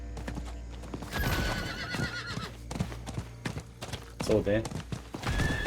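Horse galloping with rhythmic clip-clop hoofbeats and a sharp whinny in a Diablo 4 game scene, game effects around it, while someone talks over the ride.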